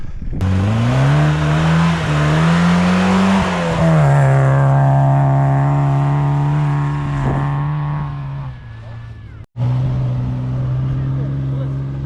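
An off-road car engine drones steadily and close, revving up and down on a foggy mountain track in Zakarpattia, with a brief cut near the end before the engine note resumes.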